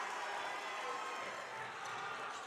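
Home crowd at a Valley Central boys basketball game against Middletown, a steady broad roar of cheering filling the gym, loud and continuous with no clear breaks.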